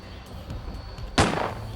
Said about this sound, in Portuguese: eu quero que tu dê um tiro naquele cara de azul ali